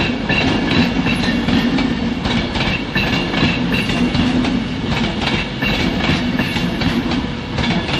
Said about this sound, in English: another Manchester-London Virgin train service